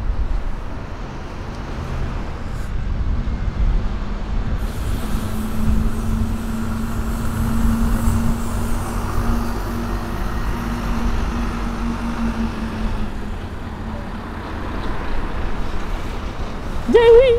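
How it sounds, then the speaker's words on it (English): A bus in poppy livery pulls into Gateshead Interchange with a steady low engine rumble. Traffic and station hum sit around it, and a brief higher squeal comes at the very end. "I got the poppy bus."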